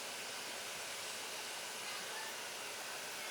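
Steel teeth are ground away on a grinder while making lock picks, heard as a steady, fairly faint hiss of abrasion with no breaks across the short stretch.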